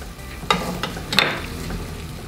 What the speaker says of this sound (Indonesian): Sambil diaduk-aduk ya